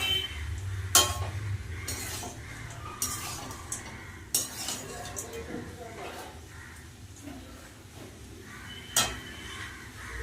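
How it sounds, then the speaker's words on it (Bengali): Fried small fish with potato and eggplant stirred together in a pan, metal utensil clinks and scrapes against the pan at irregular intervals over a low sizzle, with a voice talking in the background. "এবার দিয়ে দেবো ভেজে রাখা মাছ ভালো করে একসাথে নাড়িয়ে নেব"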